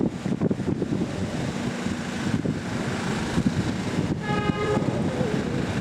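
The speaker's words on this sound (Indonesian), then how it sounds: "Terdengar klakson." A train horn sounds in a short steady blast from an approaching high-speed train on slab track, over heavy wind and rumbling rail noise, moderately distant.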